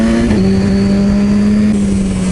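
Kawasaki motorcycle engine holding a loud, steady drone with a slight pitch shift early on, close and continuous for the whole stretch without any voices.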